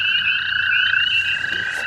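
American toad calling at night, a single loud, close, unbroken high musical trill that holds steady for the whole stretch.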